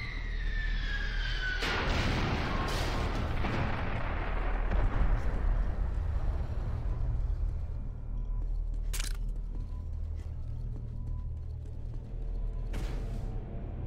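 An exploding barrel in Quake 4 on Xbox 360 goes off with a loud, deep boom that rumbles and fades over several seconds, followed later by two sharper bangs amid steady low game noise.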